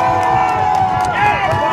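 A large football crowd of Pirates fans cheers in a steady, loud, sustained roar from the stands, with whoops rising above the mass of voices.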